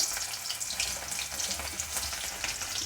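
Garlic cloves dropped into a hot pan for an onion zunka, frying with a steady, close hiss and crackle that runs throughout without pause.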